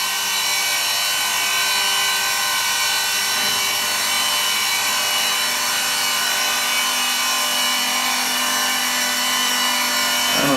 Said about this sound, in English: I'm going up and I'm going to enter the cut in this position so I don't have to plunge with the end mill